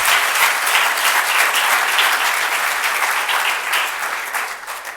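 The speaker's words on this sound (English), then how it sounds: "So if you'll give a round of applause to Travis Chambers." Steady, dense audience applause fills a hall after a speaker is introduced at an entrepreneur leadership series talk, loud and even throughout before tapering slightly at the end.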